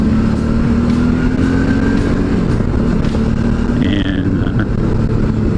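A big adventure motorcycle rides a gravel road, its engine a steady, close drone that shifts pitch briefly near the end, with a single spoken word.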